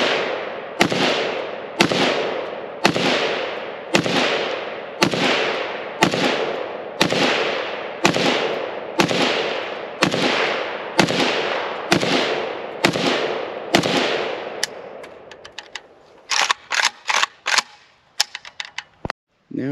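A Polish PAC Pioneer AKM Sporter rifle fires from a supplied waffle magazine at a range, giving a loud, steady string of about fourteen evenly spaced close shots, then a ragged cluster of quicker cracks and rattles.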